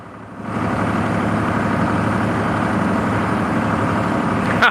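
A John Deere 4640 tractor engine idles close by with a steady, heavy low rumble that starts up after a short quieter moment and holds constant, ending with a brief sharper sound.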